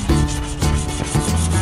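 Close, loud rhythmic sanding, abrasive strokes rasping back and forth across the glazed surface of a clay jar in quick repeated passes, with no voices.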